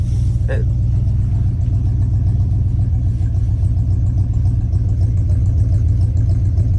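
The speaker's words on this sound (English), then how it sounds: "I've been trying to get this truck started for over an hour now" A Squarebody truck engine rumbles and churns steadily without catching, a low droning crank that keeps going the whole time, loud and close.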